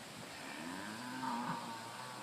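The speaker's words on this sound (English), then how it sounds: "So we've got some cows here, some local cows." Local cows lowing out in the open, a drawn-out moo that rises and wavers over about a second amid steady outdoor background noise, no talking.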